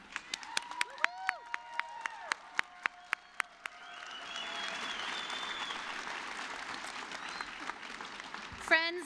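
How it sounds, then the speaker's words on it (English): Scattered single claps ring out one by one at an adult basic high school equivalency graduation, then swell into a sustained wash of fuller applause from the supporters and cheerleaders, with a brief louder burst near the end. "let's give all of your supporters and cheerleaders a round of applause"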